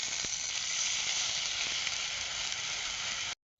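Water mixed with turmeric and chili powder hits a frying paste of green chili, ginger, garlic and cumin, giving a loud, steady sizzle that runs without a break and then cuts off abruptly.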